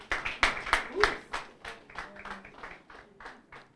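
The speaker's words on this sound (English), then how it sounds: "Again, let's clap for her." Audience applause at a university moot court competition ceremony: a run of sharp, evenly spaced claps from a modest crowd, close and moderately loud at first, then thinning and softening over a few seconds.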